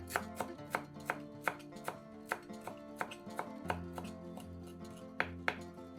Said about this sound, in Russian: Большой пучок укропа измельчаем ножом.